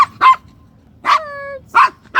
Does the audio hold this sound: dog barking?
yes